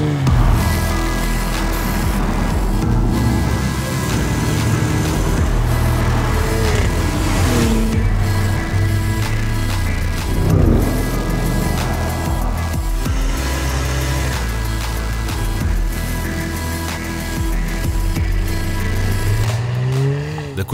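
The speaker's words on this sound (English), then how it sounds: "This is the sound of the new Cayenne Coupe." A 2020 Porsche Cayenne Coupe engine with sports exhaust roars loudly and continuously, revving up and down with a throaty, rumbling exhaust tone throughout.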